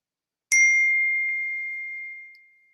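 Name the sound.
phone text message notification ding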